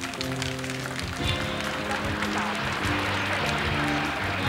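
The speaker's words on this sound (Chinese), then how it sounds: "让我们用热烈的掌声向他们致敬" An awards-ceremony audience at the Golden Bell Awards applauds stars arriving on stage, a steady wash of clapping under sustained music tones.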